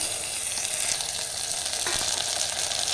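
Chopped tomatoes sauté in a pan for a peanut kuzhambu, making a dense, even, continuous sizzle that stays loud and close throughout without pause.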